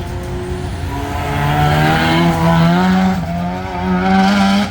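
Turbocharged Nissan Pulsar race car running a wet gymkhana course, its engine note rising and falling steadily for several seconds, loud and close with a rough, buzzing exhaust tone.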